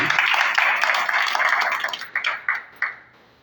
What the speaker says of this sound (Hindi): आदित्य जी के लिए ताली बजा दीजिए